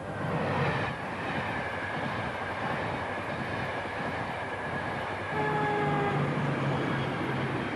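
Express passenger train running on rails, a steady loud rumble of wheels and carriage noise throughout, with faint tonal squeals joining near the end.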